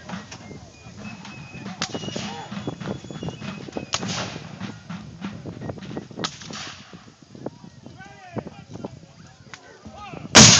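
Civil War reenactment battle with sharp musket and artillery reports cracking at irregular intervals, some near and some distant, amid background voices and shouting.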